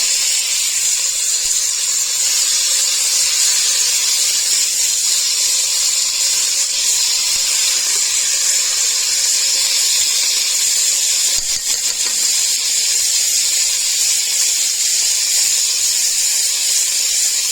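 Jackfruit coated in Maggi seasoning browning in a pan, giving a steady, even sizzling hiss that runs unbroken from start to finish with no voices.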